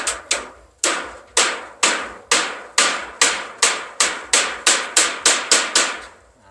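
Hammer blows driving nails into a roof frame while a kitchen house is being roofed, about sixteen sharp, close, loud strikes in a steady rhythm that speeds up toward the end, with no talking.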